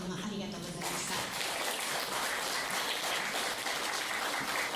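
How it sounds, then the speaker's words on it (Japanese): A hall audience at a community lifelong-learning event applauds after an ocarina performance: dense, sustained clapping swells in after a brief quieter moment and continues evenly, with voices faintly mixed in. "皆さんもう一度盛大な拍手で"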